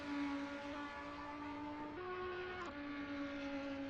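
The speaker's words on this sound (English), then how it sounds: "you should be able to hear the engine noises" GT4 race car engines roar around Daytona in a racing video game, a steady droning whine that climbs briefly in pitch before dropping back, continuous and close with no talking.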